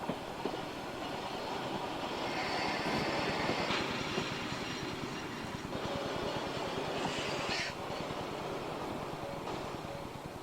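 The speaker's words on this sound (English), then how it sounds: "Mouse then caught sight of a train making its way towards the platform on which he was standing." A train rolls toward a station platform with a steady low rumble and a faint squeal of wheels, moderately close and alone without voices.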